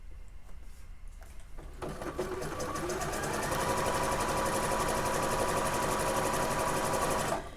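A sewing machine stitches a curved garment seam. It starts after a quiet moment and runs in a fast, steady, close whir for several seconds before stopping.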